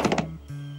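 Three quick hollow hoof knocks in a row, then a low sustained tone; the steps are close and fairly soft with no talking.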